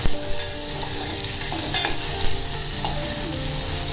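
Onion and potato frying together in a pan give a steady, continuous sizzle with occasional soft stirring clicks, close and fairly loud with no voices.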